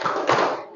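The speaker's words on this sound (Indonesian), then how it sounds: "Satu kali tepuk good job." One sharp clap from a group of students in a classroom, brief and fairly close, fading quickly into room noise.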